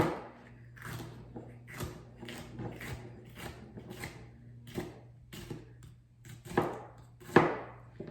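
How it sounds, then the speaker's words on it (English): Knife chopping a quartered garden green pepper on a cutting board in a home kitchen: a steady run of soft, close thuds roughly every half second, with a low background hum and no talk. "So I quarter that and chop it."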